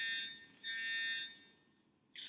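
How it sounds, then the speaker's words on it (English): Fire alarm going off in a house, a bright electronic tone sounding in repeated pulses with short gaps, faint and distant, with no voices. "the house keeps getting alarms like this. It's fire apparently"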